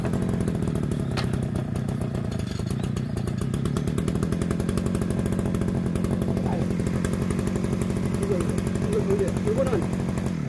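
Brush cutter's small two-stroke engine running after being started, a steady buzzing, rattling drone held close by throughout with no change in pitch.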